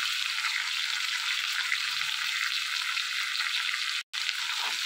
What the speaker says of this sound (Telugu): వేసుకుని ఇవన్నీ బాగా కలుపుకొని ఒక 2 మినిట్స్ ఫ్రై చేసుకోవాలి.